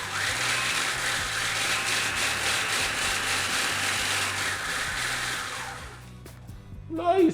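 A kitchen blender grinds breadcrumbs mixed with hot paprika, a loud, dense whirring roar that runs steadily for several seconds before winding down, followed by a few light knocks and clatters.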